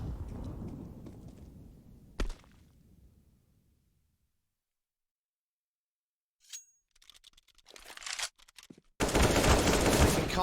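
A Counter-Strike match on the Overpass map: a spray of gunfire opens with a rumbling burst, then quiet, then sharp clicks and a loud, dense rattle of shots near the end.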